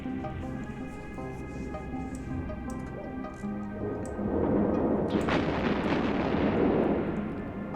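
Spaceship weapons open fire in EVE Online, a deep rumbling barrage that swells midway over a humming background drone and then sustains with crackling impacts.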